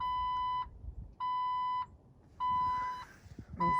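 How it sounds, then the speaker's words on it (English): A loud electronic warning beep from a 2006 Jeep Wrangler Rubicon Unlimited LJ sounds in steady on-off pulses, three long tones with short gaps and a fourth starting at the end, with faint rustling between. "that beeping will drive you nuts"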